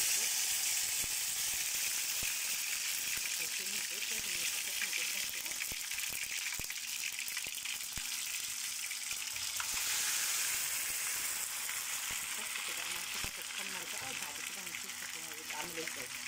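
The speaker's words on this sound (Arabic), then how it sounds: "لازم كده تتحمر في زيت كتير، وكمان يبقى الزيت سخن جدا." Peeled boiled potatoes frying in plenty of very hot oil give a steady, dense sizzle that runs the whole time, with someone talking over it.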